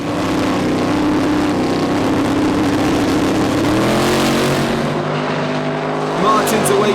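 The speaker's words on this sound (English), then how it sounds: "Martin's away clean, but Matt spins the tyres off the start line" Street Eliminator drag racing cars at the Summer Nationals launching off the start line, one spinning its tyres; loud roaring engines at full throttle, continuous and close, with the pitch shifting partway through as they pull away.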